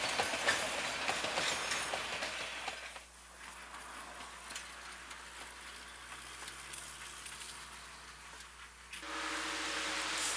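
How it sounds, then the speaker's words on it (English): A San Juan Express passenger train runs past along the Animas River: a loud, close rolling rumble and clatter for the first few seconds, fading to a quieter hum, then swelling again near the end. "Very shortly, the San Juan Express passes the 497 and train."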